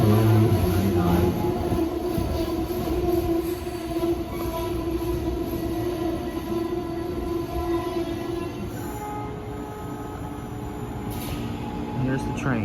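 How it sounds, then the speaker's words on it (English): An Amtrak train arriving at Wilmington station in Delaware, a steady low rumble of wheels and rail noise that fills the whole stretch, with people talking faintly underneath. "Here's the train."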